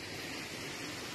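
Jonha Falls waterfall near Ranchi, Jharkhand, gives a steady broadband rush of falling water, moderately faint and unbroken, with no voices over it.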